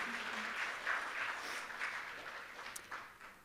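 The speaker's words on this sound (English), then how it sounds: "deserves a clap" Audience at a museum art exhibition member opening claps steadily and moderately for a few seconds, a dense crowd patter at medium distance with no talking.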